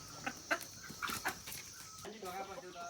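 A rooster on a rural village farm gives short, faint clucks and calls a few times in quick bursts, with other soft farmyard sounds around it.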